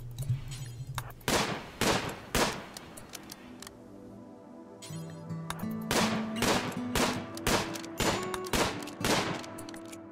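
A RimWorld colonist fires at an ostrich in two short bursts of sharp, loud gunshots, three at first and then a quicker run, over soft background music.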